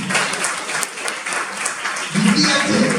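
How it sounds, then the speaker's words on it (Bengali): An audience at a spiritual talk on public speaking applauds, a sustained patter of many hands that swells near the end while voices murmur through it. "হাততালি।"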